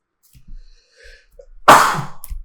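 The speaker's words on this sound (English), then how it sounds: "I was too busy sneezing" One loud, close sneeze with a sharp explosive burst, preceded by a few quiet breaths and intakes, in a quiet room during a board game session.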